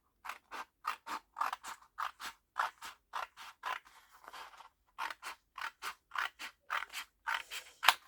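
Scissors snip through a single 30-by-30 sheet of paper in a rapid run of close, crisp cuts, pausing briefly midway with a soft rustle before snipping resumes at the same steady rhythm, with no talking.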